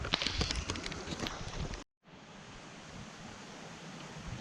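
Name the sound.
heavy rain pouring down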